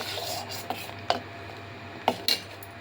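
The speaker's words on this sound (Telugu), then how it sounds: "సిమ్లో పెట్టుకుని ఇలా కలుపుతూ పక్కన ఇలా గిన్నె కంటుకునేది ఇలాగ తీస్తూ బాగా దగ్గరికి అయ్యేంత వరకు ఇలా కలుపుతూ ఉండాలి" A spoon stirs a milk mixture for homemade ice cream in a pot over a low flame, giving scattered scrapes and light metallic clinks against the pan over a steady background hiss.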